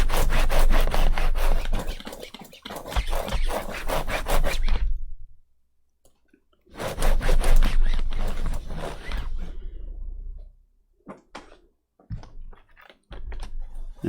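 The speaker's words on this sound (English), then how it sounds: "be very careful when scrubbing it like a cloth like I was doing" Cloth rubbed briskly over a Lenovo V145 laptop keyboard with Mr Sheen polish, making loud, close, rhythmic scrubbing strokes in two long bursts separated by silence, then a few scattered light taps and rubs.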